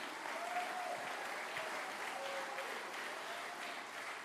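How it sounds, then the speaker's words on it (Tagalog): A congregation claps steadily throughout a Tagalog preaching service, a dense, continuous wash of applause with faint tonal sounds drifting over it and no clear speech. "Lakasan niyo yung palakpak niyo."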